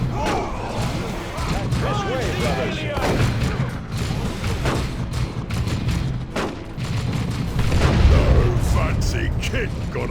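Dense battlefield din from Warhammer 40,000: Dawn of War II, with rapid gunfire, heavy thuds and booming blasts rolling continuously, while voices shout over the fighting.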